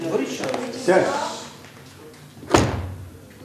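A door shuts with a solid thud and a sharper knock follows, both close, while a newsreader talks throughout.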